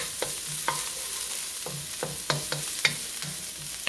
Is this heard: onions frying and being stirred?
yes